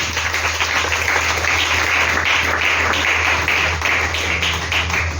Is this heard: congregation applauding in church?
yes